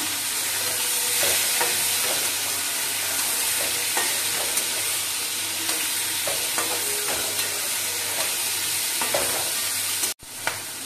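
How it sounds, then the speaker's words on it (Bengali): Prawns fry in a pan with a continuous loud sizzle and hiss, broken by small pops and a few stirring scrapes, then a brief sharp knock near the end. "চিংড়ি মাছগুলো একটু ভেজে নেব, বেশিক্ষণ ভাজবো না।"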